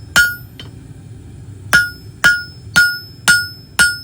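Steel stock struck with a hammer on an anvil while forging a hook: six loud, ringing metallic blows, close by. The first two come quickly, then after a pause four land at a steady, even rhythm.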